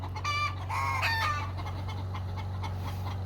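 A chicken outdoors near an Alaska cabin gives a few close, quick clucks early on over a steady low mechanical hum that continues throughout.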